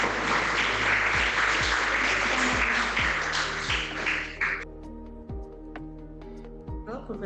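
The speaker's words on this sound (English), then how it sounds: "Can we give Dr. Huang a big clap?" An audience claps after an online aesthetics lecture, a thick burst of clapping for about four seconds that cuts off abruptly and leaves only sparse taps and a low steady hum.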